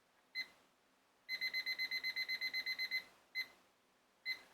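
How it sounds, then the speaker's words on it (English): A timer beeps as it is set: a single short beep, then a rapid run of about a dozen evenly spaced beeps, followed by two more separate beeps, close and clear in a quiet room. "you know I'm setting my timer"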